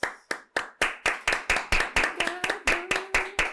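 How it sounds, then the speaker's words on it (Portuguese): Hands clap in a steady, even rhythm, about fourteen sharp, close claps over a few seconds, with faint voices briefly heard underneath during the later claps. "Palmas."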